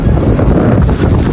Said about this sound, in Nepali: ओ माइबाट कस्तो हावा चलेको यार